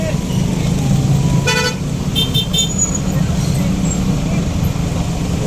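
Heavy road traffic jam in Lapu-Lapu City, Cebu, with a steady engine rumble throughout and a few short car horn toots around the middle, loud and close, with people talking over it.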